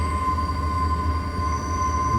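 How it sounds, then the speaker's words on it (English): Bernina Express train zigzagging downhill through the Swiss Alps, a steady close rumble of rolling carriages with a thin sustained wheel squeal ringing above it. "It's crazy how this train goes zigzagging"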